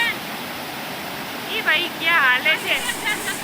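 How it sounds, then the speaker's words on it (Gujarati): Fast-flowing river water at Khalwani near the Statue of Unity makes a steady rushing hiss like a waterfall, running continuously while birds chirp and whistle in the dense forest around it. "અહીં પાણીનો ફ્લો ખૂબ જ વધારે છે અને પાણી વહી જાય છે એનો અવાજ પણ જોરદાર આવે છે"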